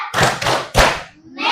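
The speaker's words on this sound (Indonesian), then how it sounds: "Satu kali lagi, tepuk fokus." A primary school class claps together in a rhythmic focus-clap chant, a few loud, sharp group claps landing close by in the room.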